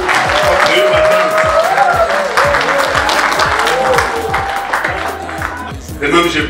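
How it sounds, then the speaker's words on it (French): Loud audience applause at a municipal installation ceremony in Batcham, Cameroon: sustained crowd clapping with rhythmic unison beats and some cheering, fading slightly before a voice starts speaking at the end. "Applaudissons une fois pour elle, pour une madame."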